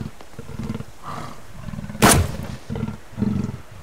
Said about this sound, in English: If this cougar follows me up here, I'm in trouble.